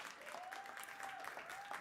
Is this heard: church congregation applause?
yes